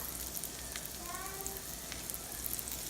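Garlic hitting a hot pan while cooking Mexican rice, giving a steady, close, fairly quiet sizzle and crackle that runs unbroken, with no talk over it.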